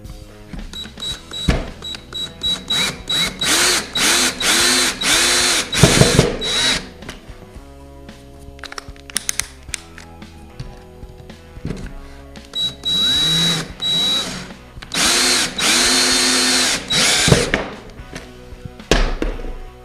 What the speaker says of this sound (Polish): I teraz spróbuję to skręcić.